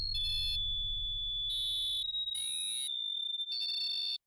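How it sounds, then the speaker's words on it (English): Steady high-pitched electronic whine running throughout a creepy online clip, with intermittent bursts of harsher, buzzing static and a low rumble at the start, fairly faint overall. "a bunch of weird clips of scary locations with a high-pitched noise in the"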